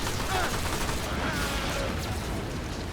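Steady gunfire from weapons in Warframe, a dense continuous crackle of shots and mechanical noise running under the whole stretch without clear breaks.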